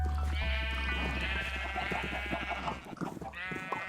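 Several wavering sheep bleats from Minecraft, loud and close, one long bleat followed by shorter ones, over a steady low background hum.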